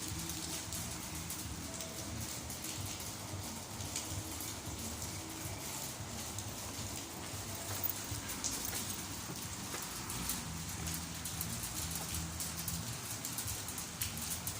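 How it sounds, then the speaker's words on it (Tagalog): Rain pours steadily on surfaces, a constant dense patter with occasional louder drips, sustained and close, no talking. "Ganito lang ang ulan, hindi naman lumalabas."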